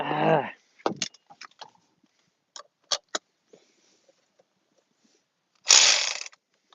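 A hand ratchet clicks in short bursts while tightening bolts on a Dodge Ram, its quick pawl chatter close and crisp with silent gaps between strokes and a brief voice at the start.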